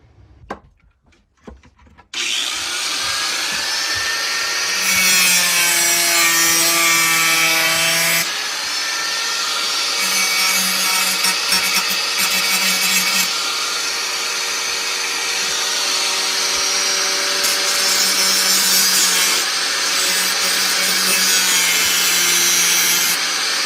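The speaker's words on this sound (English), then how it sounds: "we got to grind these things down here. Grind them down pretty flat." A rotary power tool grinds plastic tabs flat during a Civic Si instrument cluster install in an EG Civic. It gives a sustained loud, high whine with shifting pitch after a brief start, heard alone.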